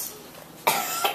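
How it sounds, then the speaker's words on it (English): Two sharp coughs close by after a quiet stretch, the first louder, the second a softer follow-up. "Did you just hear coughing?"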